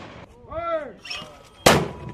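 A marine artillery gun fires during a training exercise, one sharp loud blast near the end after a shouted command and other voices.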